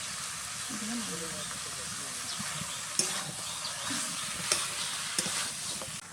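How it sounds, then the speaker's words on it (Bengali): Banana flower curry with soft-cooked potatoes stirred in the pan as garam masala goes in: a steady low sizzle and hiss under scraping stirs, with a few sharper knocks of the spoon against the pan. "এবার দিয়ে দিচ্ছি গরম মশলা। খুব ভালোভাবে মিশিয়ে নামিয়ে নেব।"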